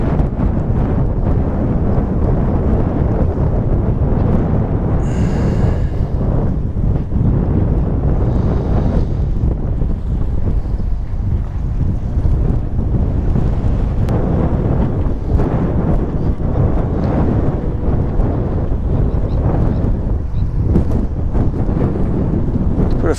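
Strong wind buffets the microphone without letup on a shoreline while fishing near Sunderland, a loud, constant low roar with occasional gusting swells.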